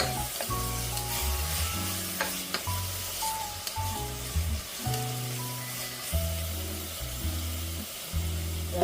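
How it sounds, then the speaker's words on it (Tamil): Ginger-garlic paste fries with softened onions in a pan for chicken biryani, giving a loud, steady sizzle broken by close scraping stirs throughout. "இஞ்சி பூண்டு பேஸ்ட்டை போடணும் போட்டுட்டு நல்லா கிளறி"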